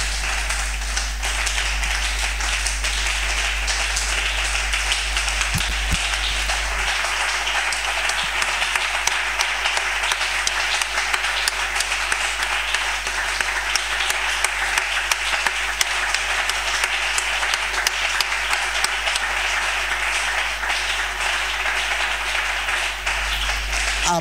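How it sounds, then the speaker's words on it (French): A church congregation applauds, dense, steady clapping from many hands that carries on unbroken for over twenty seconds. "Est-ce qu'on peut acclamer le Seigneur Jésus-Christ?"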